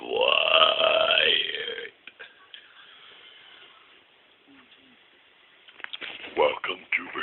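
A long, loud, deep burp rolls on for about two seconds close to the microphone, followed by quiet and then some brief talking.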